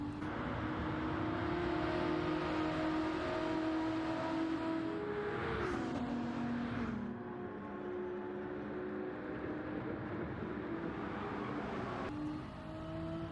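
Gr.3 race car engine in Gran Turismo 7 at Monza, a steady loud droning roar with a pitch sweep around the middle as the car shifts and accelerates, continuous throughout with no talk.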